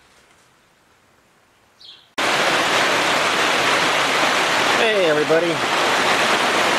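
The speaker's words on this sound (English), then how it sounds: "it's pouring rain out" Heavy rain pouring outdoors, a loud, dense, steady hiss that starts abruptly after a quiet moment and continues unbroken, with a bird chirping briefly and someone speaking faintly at the start.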